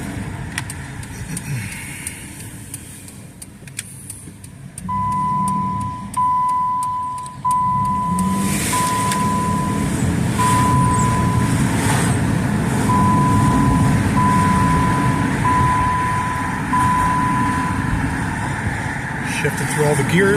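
A 2008 Jeep Liberty drives steadily on the road, its engine rising and settling as it shifts through the gears, with a steady tone running through the middle and rumbling road noise throughout.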